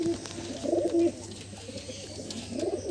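Beldanga giribaz flying pigeons coo softly nearby, a few low throaty coos rising and fading over a quiet background murmur.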